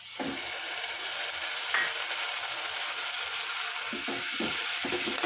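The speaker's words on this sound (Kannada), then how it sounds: "ಇಷ್ಟ ಆದಮೇಲೆ ನಾವು ತುರಿದಿಟ್ಟಿರೋ ಟೊಮೆಟೊ ಹಾಕೋದು" Grated tomato hitting a hot pan for shavige bath gives a steady, loud sizzle and frying hiss throughout, with a few stirring scrapes near the end and no voices.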